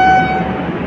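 A train on a journey between Visakhapatnam and Ongole passes for under a second, giving a loud rumbling rush with a steady horn-like tone over it that fades quickly.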